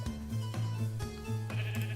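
Sheep in a Lord of the Rings Minecraft mod game bleat repeatedly in close, loud wavering calls, several overlapping bleats filling two seconds with no talk.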